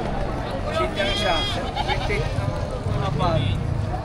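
Several goats bleat in wavering cries amid a noisy crowd at a livestock market in Padre Garcia, Batangas, with people chattering and haggling in Filipino in the background throughout.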